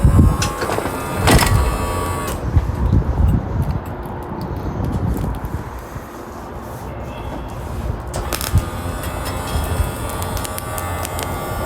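An electric awning motor on a 2020 Forest River Wildwood 27RKSS travel trailer reels out, giving a steady mechanical whir and hum with a few sharper clicks near the start and end, close and moderately loud, with no talk.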